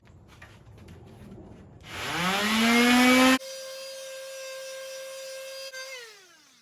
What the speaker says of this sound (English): I'm gonna do some light sanding on the wood first